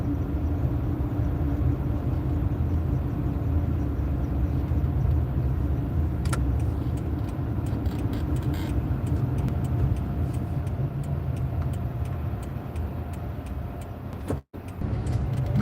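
A car drives through a residential community at night, giving a steady, close road and engine rumble that runs throughout with no talking, then briefly cuts out near the end.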